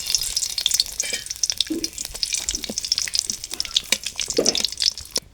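Whole spices, dried red chilli and bay leaf frying in mustard oil in a wok over a stove, a steady close crackling sizzle with brief bursts of stirring, no voices.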